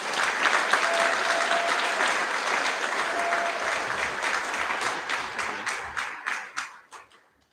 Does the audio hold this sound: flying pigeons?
no